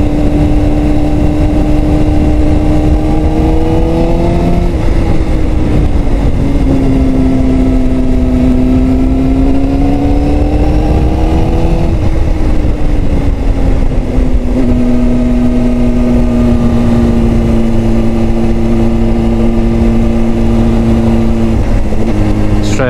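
2005 Honda CBR600RR engine pulling uphill at low revs, a loud continuous droning hum that rises and falls slightly in pitch across the ride under heavy wind roar.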